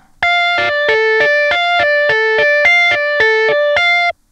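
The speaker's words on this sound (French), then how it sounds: "Là, on entend les notes qui se chevauchent et c'est pas joli." Synthesizer in polyphonic mode playing a slow legato melody of about ten buzzy, harmonically rich notes, each held note overlapping the next, loud and steady with no voices.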